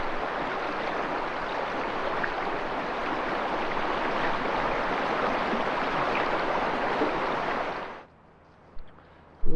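Steady broadband rush of a river flowing near Zoar Gap in New England, loud and close with no talk, cutting off abruptly near the end before a couple of brief knocks.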